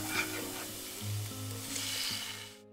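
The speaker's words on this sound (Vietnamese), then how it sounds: "Các bạn cho tỏi vào phi cho đến khi tỏi chuyển hơi vàng thì mình cho vào 1 muỗng canh nước mắm" Garlic sizzles in oil in a frying pan as fish sauce goes in, a steady close frying hiss with a brief louder surge partway through, with no talk.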